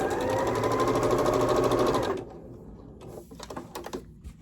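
Sewing machine stitching a quarter-inch seam in quilting fabric, a fast steady hum close by for about two seconds, then stopping, followed by light clicks and handling noises.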